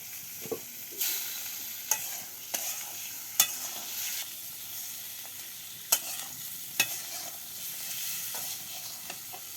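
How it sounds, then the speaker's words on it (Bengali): Fish frying in a pan with ground spice paste, turmeric and salt, a steady soft sizzle broken by several sharp clinks and scrapes of stirring, heard close with no voices. "এবার মাছ দিয়ে দিচ্ছি মাছগুলো আছে কষে রান্না করবো"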